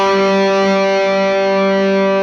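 A LOOG Gibson Les Paul electric guitar rings out with distortion and the gain cranked high, one sustained, buzzing chord held steady and loud before cutting off sharply.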